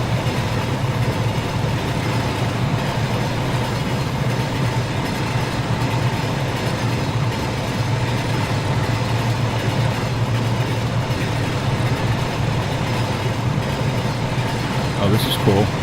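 A model train in the VR railroading game Rolling Line rolls along with a continuous low rumble and rhythmic clatter of wheels on track, steady and fairly loud throughout, under occasional talk.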